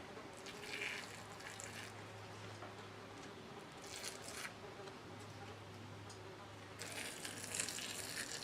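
Water pours onto a freshly planted basil plant in a garden, coming in a few short soft bursts of patter and trickle with quiet pauses between, faint and close, no voices.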